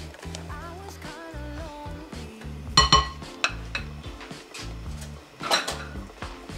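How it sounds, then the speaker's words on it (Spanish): Egg whites and cheesecake batter are whisked in a bowl, heard as scattered metallic clinks and scrapes of the whisk against the bowl in a few short bursts under soft background music. "Y sigue batiendo."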